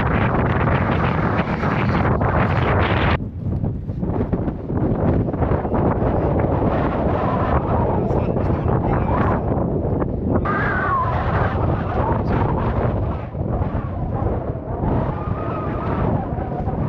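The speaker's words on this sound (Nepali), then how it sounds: "यो हावाले अलिक बेसी हान्यो" Strong wind on the Gosaikunda trek in the Nepal mountains, a loud, steady roar buffeting the microphone throughout, briefly easing then surging again, with no talk over it.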